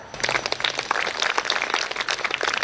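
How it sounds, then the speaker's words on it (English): Audience applause at a school graduation ceremony, dense steady clapping from many hands filling the hall, moderately loud and continuous throughout. "As we rise and give applause"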